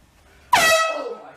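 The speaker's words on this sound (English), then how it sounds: "Our air horn was funnier though." Air horn blasted from a vehicle in a drive-by prank, a single loud, sudden blare that starts abruptly after brief quiet and slowly fades.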